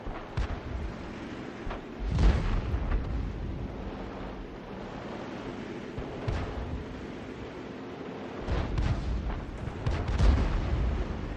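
An SU-122A tank gun fires in a tank video game with a few heavy, booming blasts over a constant low rumble and whooshing battle ambience, fairly loud and without voices.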